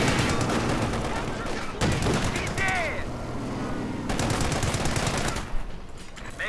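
Machine gun fire in the World War II strategy game Company of Heroes 2, dense continuous bursts and battlefield gunfire mixed with game effects, loud throughout.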